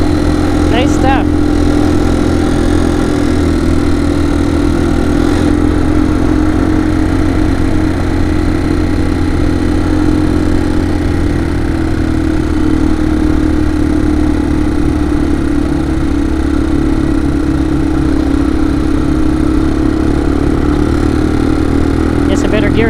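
A Yamaha TW200 motorcycle rides a trail on the Cross PA Adventure Trail, its engine a steady close drone throughout with small shifts in pitch, and riders talking over it.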